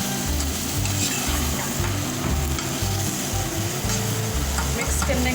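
Chicken chop suey with soy sauce being stirred and mixed as it fries in a pan, a continuous close sizzle with rhythmic scraping and stirring strokes and light utensil clinks, no voices.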